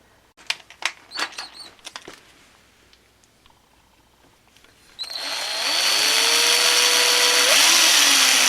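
A drill boring into a 1970 Honda Z50 part, starting after a few sharp knocks and taps, then running loud and steady with the pitch sliding as the bit bites through the metal.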